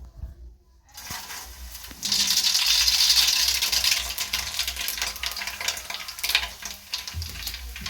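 Whole cardamom, cinnamon and cloves drop into hot oil for a vegetable biryani and set off a steady, close sizzle that jumps louder after a quiet start, with small clinks of spices and spoon through the crackle.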